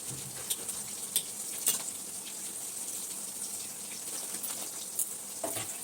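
Onions and tomatoes fry in a pan for chicken curry, a continuous sizzle and bubbling hiss with a few brief louder spits and stirs.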